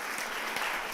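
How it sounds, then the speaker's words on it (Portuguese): A church congregation applauds during a celebration service, steady dense clapping filling the whole second at moderate loudness with no break. "Queria que a igreja aplaudisse Jesus"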